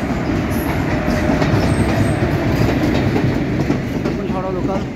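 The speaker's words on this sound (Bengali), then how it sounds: "এদিকে তো ট্রেন যাচ্ছে।" Local train passing through Prantik station on the Howrah line, a loud continuous rumble with rhythmic clickety-clack of wheels and faint squeals, close and steady throughout.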